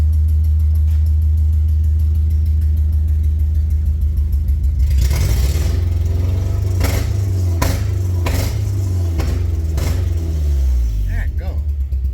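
A Suzuki engine swapped into a Nash Metropolitan runs roughly with a misfire, a loud low rumble that surges with uneven bangs and stumbles partway through, heard up close.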